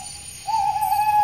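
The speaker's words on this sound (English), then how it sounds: "Cato is one of the younger owls here." A young owl gives a single steady hoot in a quiet, close setting, starting softly and then holding a clear, sustained tone to the end.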